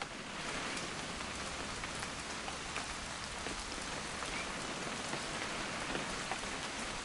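Steady rain falls on surfaces in a dense, even patter that continues unbroken throughout, soft and wide with no voices over it.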